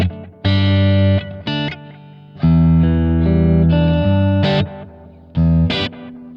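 Electric guitar played through a Positive Grid Spark amp set to a vintage delay: loud, sustained chords and notes in separate phrases, each trailed by soft echoing repeats, with no voices.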